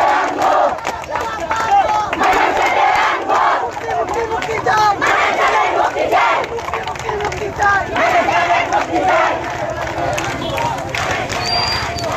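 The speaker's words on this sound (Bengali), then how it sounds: "দাবিতে ছাত্র শিক্ষার্থীরা বিশাল পরিমাণের মিছিল বের হয়েছে।" A large crowd of students in a protest march chants and shouts slogans together in rhythmic waves, loud and close, with a dense babble of many voices throughout.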